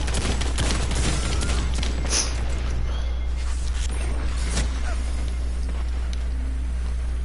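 Sidearm gunfire in a video game, a hand-cannon-style weapon, fired as sharp cracks in a quick cluster early on and then scattered shots over a constant low hum and busy game noise, with a voice talking.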